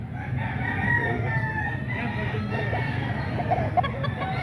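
Chickens in a scratch pen at a market make faint clucking and crowing over constant crowd murmur and nearby talk.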